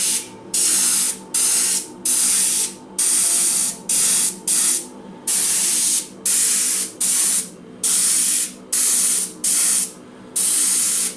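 An airbrush spraying paint on a 3D suit at 70 PSI gives repeated bursts of close, loud hissing, each lasting about half a second to a second, separated by short silent gaps.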